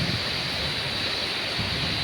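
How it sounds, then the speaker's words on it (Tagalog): Heavy rainwater floods and flows through a park during a downpour, a steady broadband rushing wash that fills the whole clip without pause and with no voices. "Yung parang pag malakas yung ulan, nagpupundo yung tubig doon sa baba."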